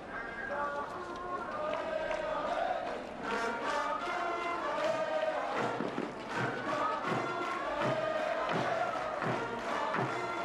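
A large French crowd at a Davis Cup-style tennis tie between Italy and France roars and chants, with rhythmic clapping and thumps building through the middle, loud and sustained.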